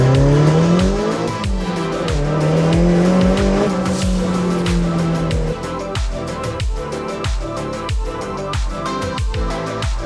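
A drift car at an Irish Drift Series round squeals its tires through a long slide while the engine revs and bounces off the limiter, loud and close, with repeated rhythmic bursts toward the end.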